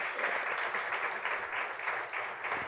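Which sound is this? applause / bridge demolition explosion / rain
applause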